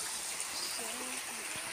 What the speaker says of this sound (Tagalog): May tubig pa siya dito. Tabing ilog.